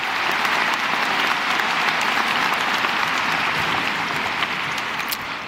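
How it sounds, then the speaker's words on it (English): A large crowd at a high school graduation ceremony gives a round of applause, a loud, continuous roar of clapping sustained evenly throughout. "Once again, let's give them a round of applause,"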